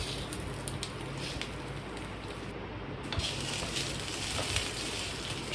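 Dal with ginger paste and mixed vegetables frying in a pan, a steady close sizzle and hiss with soft stirring scrapes running throughout at even loudness, with no talking.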